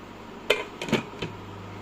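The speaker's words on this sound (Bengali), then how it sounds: "একটু ঢাকনা দিয়ে রাখছি এখানটায়" A lid is set on a pot of milk tea made with powdered milk, producing two or three quick metallic clanks close by.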